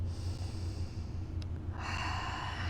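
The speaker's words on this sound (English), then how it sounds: "Take one more breath here." A single breath is taken during a yoga pose, a close, audible nasal inhale and exhale with a soft snorting edge, heard alone without talk.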